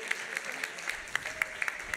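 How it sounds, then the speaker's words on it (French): Sparse, scattered hand claps from a small audience at a real-estate directors' awards gala, quick individual claps spread over a couple of seconds, moderately distant and fairly light. "On peut les applaudir quand même."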